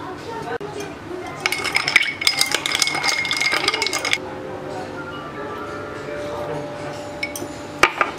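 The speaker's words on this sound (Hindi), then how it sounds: "मैं डाल दूंगी एक आइस क्यूब" An ice cube drops into a glass of homemade lassi with a run of bright glassy clinks and rattles, then a lone sharp clink later, while someone talks nearby.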